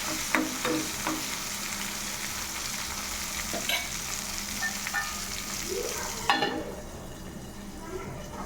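Dry red chillies fry in hot oil in a pan with a continuous close sizzle and scraping stirs, the sizzle dropping away sharply near the end; a person speaks faintly over it.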